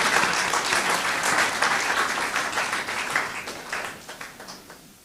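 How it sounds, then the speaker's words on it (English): An audience applauds performers at a health talk on sickle cell disorder, with dense, steady clapping that fades gradually toward the end, no voices over it. "Please give them another round of applause."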